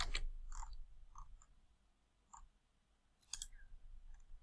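A handful of sharp, light mouse clicks ring out one at a time over a quiet background, close-up, with a faint double click near the end.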